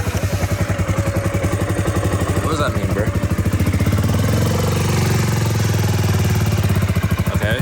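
A KTM motorcycle engine starts and revs up close with a loud, steady throbbing idle that swells into higher revs, while people talk over it.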